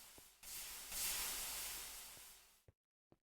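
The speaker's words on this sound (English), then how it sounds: "That sound you will hear is all the boilers overflowing on steam" Loud steam hissing and spraying from overflowing boilers in a video game base, a single sustained rush that swells for about two seconds, then cuts off, followed by two brief clicks in silence.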